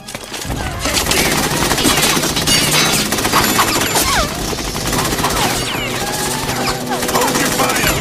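Sustained heavy gunfire in a Metal Gear Solid 2 cutscene, loud and continuous for several seconds as overlapping automatic bursts and impacts, with voices shouting beneath.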